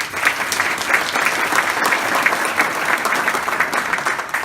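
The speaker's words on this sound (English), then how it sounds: "So let's give them a round of applause." An audience at a hotel groundbreaking ceremony claps in a dense, steady round of applause that carries on evenly throughout, fairly loud and close.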